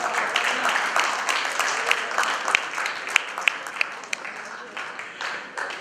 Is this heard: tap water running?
no